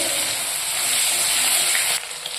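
Onions frying in a kadai give a loud, dense, close sizzle that holds steady, then drops abruptly near the end to a quieter hiss.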